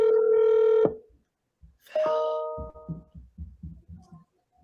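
A telephone call is dialed: long electronic dialing tones sound, followed by a series of short, evenly spaced low pulses from the line, all close and clear, with no talking.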